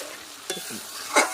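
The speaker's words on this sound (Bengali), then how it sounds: "মশলার জলটা দিয়ে মশলাটা ভাজা ভাজা করবো" Spice paste fried with a splash of water in a pan for a pigeon meat curry, heard as two short, quiet scrape-and-sizzle bursts from stirring over a faint background.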